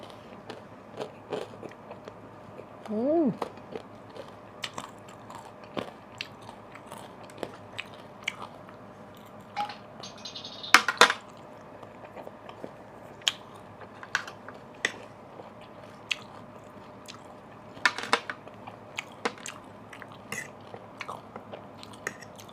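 Someone eating a green vegetable salad close up, with crisp, irregular bites and crunchy chewing scattered through a long quiet stretch, each crunch short and sharp, no talking.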